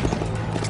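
The Death Horse in a zombie video game trots with quick, even clip-clop hoofbeats that sound close and fairly loud against a dense, rumbling game backdrop.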